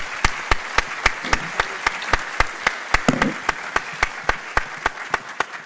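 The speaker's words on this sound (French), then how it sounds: "Effectivement, on peut vous applaudir." Sparse applause at a French conference session, with distinct single loud claps landing at a steady, rhythmic pace over several seconds and faint background murmur between them.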